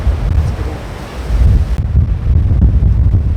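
Wind blowing across an open golf course, a steady loud rush buffeting the microphone throughout, with no voices heard.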